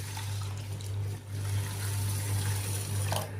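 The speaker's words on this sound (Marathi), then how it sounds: "आता यामध्ये आपण पाणी घालूयात" Water runs steadily into a vessel of washed rice set to soak, a constant low rushing stream with a hum underneath, heard alone.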